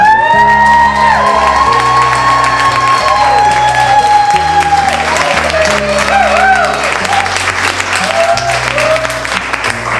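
A crowd claps and cheers over loud music, with whoops rising through the steady applause, at a women's shooting event at a gun club in Oklahoma City.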